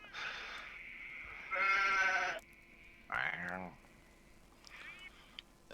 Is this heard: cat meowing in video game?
no